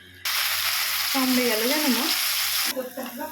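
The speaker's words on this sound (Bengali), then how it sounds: "মাংসটা ভাজা হয়ে গেছে" Chicken meat, rubbed with salt and turmeric, frying in oil in a kadai makes a strong continuous sizzle up close, with a voice speaking briefly over the middle.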